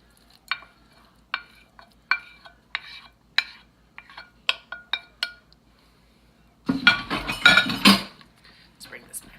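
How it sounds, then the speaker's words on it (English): Tomato chicken tortellini soup stirred in an Instant Pot, with a series of distinct spoon clinks against the pot followed by a denser burst of scraping and clattering near the end, close and fairly quiet. "Just give it a nice stir."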